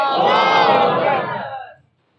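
A large crowd at a religious gathering on the finality of prophethood roars a takbir slogan in unison, a loud, dense shout that holds for over a second and then fades out.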